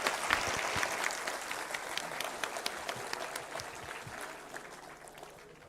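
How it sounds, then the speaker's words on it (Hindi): An audience applauds after a speech at a gathering, steady dense clapping filling the whole stretch at a moderate distance, with a few sharper individual claps standing out. "एक जोड़ा बढ़िया हाथ ताली।"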